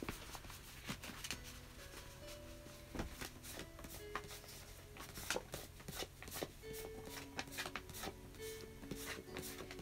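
Tarot cards shuffled by hand in a quiet room, a run of soft riffling and tapping bursts at irregular intervals, close and faint, with light tonal background sounds.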